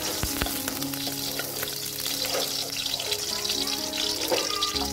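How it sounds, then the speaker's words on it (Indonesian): Onion sautés in hot oil, a steady close sizzle with crackling pops and faint clinks of a utensil in the pan, running continuously without speech. "Sekarang saya akan tumis terlebih dahulu bawang bombaynya ya"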